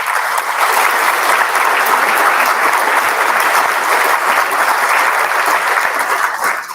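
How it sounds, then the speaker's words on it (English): Loud, sustained applause from an audience at a junior honor society induction ceremony, a dense, even wash of many hands clapping without pause, tapering slightly at the very end. "I think that deserves a round of applause"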